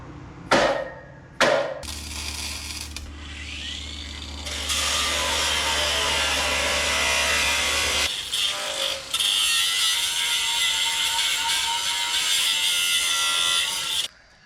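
Metal being cut on a trailer build: a loud, sustained grinding rasp after a couple of sharp knocks, running for several seconds with brief breaks before it cuts out.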